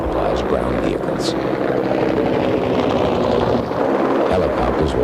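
A military helicopter in wartime flight gives a loud, continuous rotor thump and engine roar throughout, close and unbroken.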